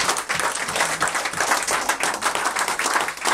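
A church congregation bursts into dense, continuous applause during a worship service, steady and loud clapping filling the whole stretch with a slight crowd murmur.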